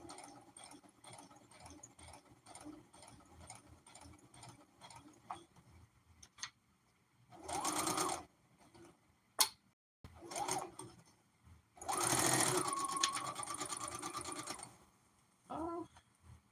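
A sewing machine stitches stretchy durag fabric, running in a few bursts of steady whirring separated by quiet pauses and soft ticking, fairly faint and close.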